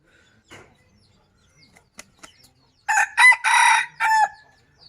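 A rooster crows loudly in a rural village setting in Oudomxay, Laos, one long, strained call broken into several segments near the end, after a few faint clucks and rustles in quiet surroundings.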